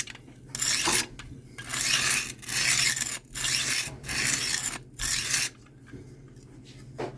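A knife blade is drawn along the 300 grit stone of a Cold Steel benchtop sharpener in six steady rasping strokes, each about a second long, with short pauses between them. The sound is close and fairly loud, and no one speaks.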